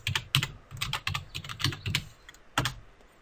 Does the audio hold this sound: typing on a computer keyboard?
yes